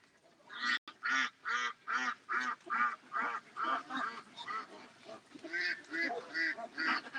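Ducks quack and honk in a fast, regular run of loud calls, over a dozen harsh squawks following one another closely with no talk.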